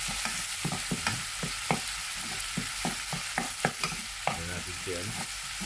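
Chili is stirred into salmon sinigang in a pot, a steady sizzling bed punctuated by repeated scraping clanks of a utensil against the pot, heard up close without talk.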